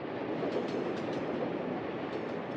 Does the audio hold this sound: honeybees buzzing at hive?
no